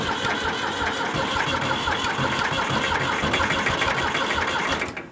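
Old 1973 diesel tractor engine without glow plugs, recently fitted with a new fuel injector pump, cranking and clattering loudly and continuously close by before cutting off at the end.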